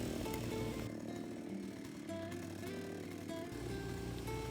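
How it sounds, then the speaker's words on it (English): A gasoline earth auger drills fence post holes: a buzzing two-stroke engine revs steadily, drops in pitch while boring from about one to three and a half seconds, then climbs again, fairly close and alone. "This earth auger that I purchased in Bulacan and had shipped to Daet from Descarte Pinoy TV made short work of drilling 20 holes."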